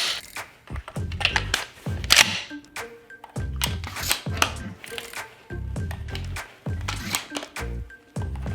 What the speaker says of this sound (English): Loading a shotgun. Well, in this case, an airsoft shotgun.